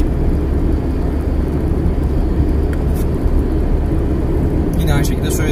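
A 1998 Mazda Lantis engine droning at low revs while driving, a steady near rumble with road and wind noise throughout, as someone talks over it.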